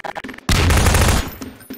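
A loud, close burst of rapid gunfire from the Garry's Mod Deathrun game lasts under a second, then cuts off. Scattered game sounds come before and after it.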